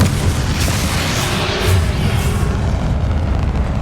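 Confringo blasting spell exploding in the Hogwarts Legacy video game: a loud, sustained roaring boom with rumbling low end that fills the whole moment without a break.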